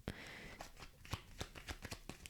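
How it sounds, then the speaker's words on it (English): Cards are shuffled close up in a rapid series of soft riffling snaps and slaps, with no talking. "let's shuffle properly"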